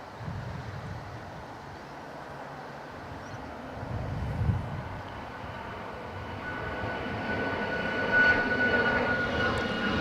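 A Velocity light aircraft with small winglets at Adelaide Airport, a distant propeller drone that slowly grows louder over ten seconds amid low rumbling background noise.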